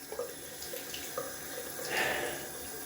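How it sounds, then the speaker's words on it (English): Tap water runs steadily into a bathtub as it is rinsed, a continuous close splashing rush that swells slightly in the middle. "Just rinsing off the tub."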